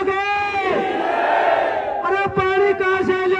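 Protesters at a village dharma sit-in shout a slogan back in a loud, unified roar, which is followed by a brief pause and then a burst of scattered shouted voices.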